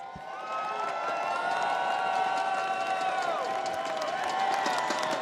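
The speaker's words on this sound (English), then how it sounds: "Crowd's getting into it today." A crowd in an esports arena cheers and roars at the Apex Legends Global Series Open grand finals, swelling after a brief quiet start into sustained loud shouting and whooping that holds to the end.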